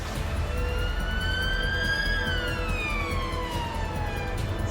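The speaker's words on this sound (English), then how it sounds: "I think we're going to respond on lights and sirens to this." An ambulance siren wails steadily as the vehicle responds on lights and sirens to an emergency call in the UK, its tone sweeping up and then sliding down over a constant engine and road rumble.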